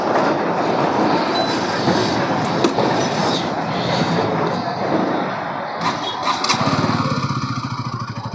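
An off-road model motorbike engine runs steadily close by, a loud continuous rumble with a rattling, chugging pulse that stays alone with no talk.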